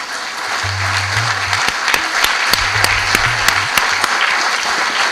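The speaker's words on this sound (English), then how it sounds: "With a great round of applause." A crowd applauding steadily, dense clapping sustained for several seconds with a few sharper individual claps standing out.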